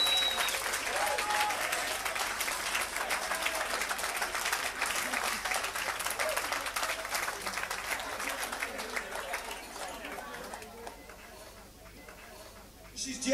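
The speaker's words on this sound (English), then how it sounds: "so give him a nice round of applause." Audience at a live band show breaking into sustained applause, dense clapping and some cheering filling the space at full strength, then gradually thinning toward the end.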